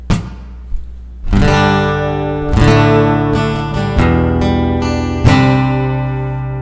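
Acoustic guitar chords strummed and picked through a reverb effect for worship music, each ringing out with a long reverb tail that lingers between notes; loud and close, no voices.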